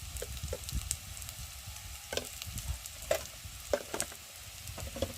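Turmeric, chili and coriander powder masala is stir-fried in a pan, a soft sizzle under repeated scraping and clacking strokes of a spatula, close but fairly quiet.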